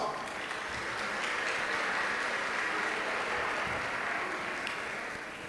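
Steady applause from a large crowd at a career development conference, a dense wash of clapping that holds evenly for several seconds.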